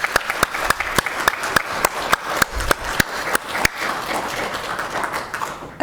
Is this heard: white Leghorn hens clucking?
no